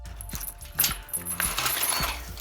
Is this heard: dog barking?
no